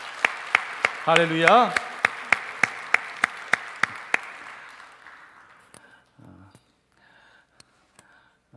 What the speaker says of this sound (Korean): 우리 하나님께 영광의 박수 한 번 더 올려드리기 원합니다